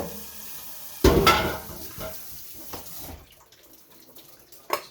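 Kitchen tap water runs over potatoes being rinsed, a sudden close splashing gush that continues briefly then fades to quieter trickling and faint clinks.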